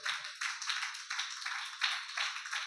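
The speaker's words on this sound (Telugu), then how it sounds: "చప్పట్లు కొట్టారు, బాగానే ఉంది." A church congregation claps hands in loud, even bursts, one round after another, with brief gaps between them.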